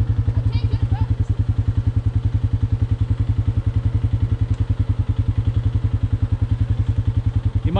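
A motorcycle engine, a long-stroke 45, idles close by with a steady, fast low thumping pulse that holds for the whole stretch, with a faint clatter and occasional voices underneath.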